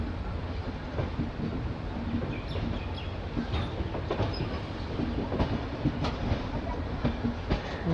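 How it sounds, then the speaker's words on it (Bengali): The Uttarbanga Express rolls into Sealdah station with a continuous rumble and rhythmic clickety-clack of wheels over rail joints, plus occasional metallic squeaks and clanks throughout. "ট্রেন শিয়ালদা স্টেশন এন্টার করছে।"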